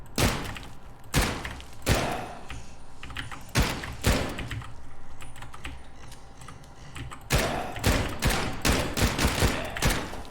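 Bursts of top-down zombie-shooter video game gunfire, several rapid volleys of shots with thuds between them, loud and close, over a low continuous background.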